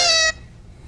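A cat gives one short, clear meow near the microphone, a bright tonal cry lasting under half a second before dropping to quiet room tone.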